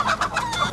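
Hen clucking in a short burst of several rhythmic clucks, close and fairly loud, with no talking.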